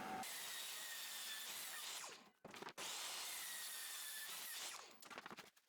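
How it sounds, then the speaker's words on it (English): Pallet wood being ripped to width with a power saw, two loud sustained cuts separated by a brief pause, running alone with no talk. "I rip all my wood to width and always start by ripping off about a 1/4 inch slice from the side"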